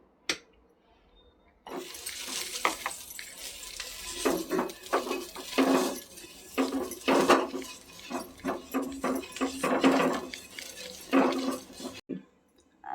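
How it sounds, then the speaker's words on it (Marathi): Oil sizzles and hisses on a hot nonstick griddle as a cut onion is rubbed across it, producing bursts of crackling and scraping strokes for several seconds between brief quiet gaps. "आता तेल लावून घेते कांद्याने."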